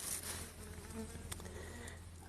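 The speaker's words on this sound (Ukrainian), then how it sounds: "бджоли почали вилітати потроху" A soft, steady buzzing of honeybees flying out of a hive close by in warming weather, a continuous droning hum with faint shifts in pitch as they pass.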